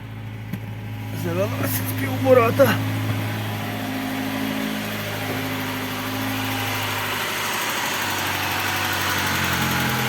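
Volkswagen 1.8 engine, freshly overhauled, cranks and catches with a few sharp starter bursts, then settles into a steady, close idle hum; a person talks briefly during the start.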